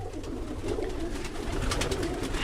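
Birmingham Roller pigeons coo in a loft, soft low throaty calls running steadily under a constant background hiss, close and moderately loud with no voices.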